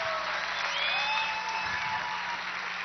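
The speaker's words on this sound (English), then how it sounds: "How about a smoking round of applause for all the couples in the marriage show?" A live audience at a marriage game show applauds the couples, dense steady clapping mixed with cheers and a few whoops over a low hum.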